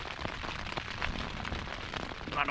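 Steady rain patters on a tent while wild camping in the Lake District, a dense crackling hiss with scattered louder drops and no talking.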